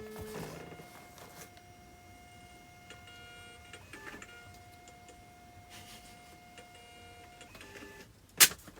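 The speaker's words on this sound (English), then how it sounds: "Somebody called the sound of the Dymo label printing bagpipes, so I can never hear it another way." A Dymo label printer prints a shipping label with a faint, steady mechanical whir and soft ticking at a sustained pitch, fairly quiet, ending with a sharp louder click near the end.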